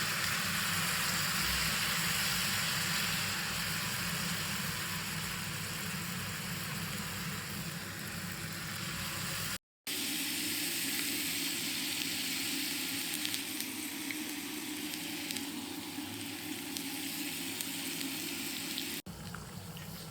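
Mushroom kabab pieces frying in hot oil give a steady, loud sizzle with no talking, dropping out briefly near the middle and then hissing on evenly.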